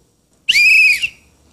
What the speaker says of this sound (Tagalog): Pwede gamitin ang pito o kaya whistle para humingi ng tulong.